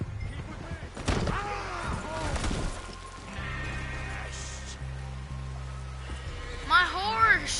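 In Red Dead Redemption 2, a horse whinnies and neighs in distress, with two bursts early and near the end, heard over rain, background music and someone speaking.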